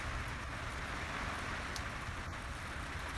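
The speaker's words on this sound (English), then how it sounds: "It's just started breaking loose, raining on us." Steady rain falls on a garden at a potato harvest, a dense, even hiss of drops that stays constant and fairly soft throughout, with no voices.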